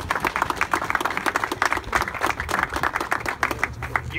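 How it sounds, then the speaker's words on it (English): An outdoor crowd at a mural unveiling in Utica's Baggs Square claps steadily, with distinct individual hand claps standing out in a fairly close, sustained round of applause. "Round of applause, please."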